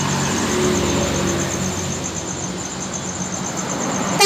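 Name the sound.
Medan Jaya bus passing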